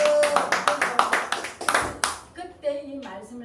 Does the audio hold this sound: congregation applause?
yes